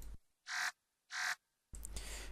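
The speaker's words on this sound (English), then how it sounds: "The first one is what I call the cricket sound" A synthesized cricket-like tone from a Massive patch sounds twice as short, bright chirping bursts with silence between them, followed by a noisier sustained burst.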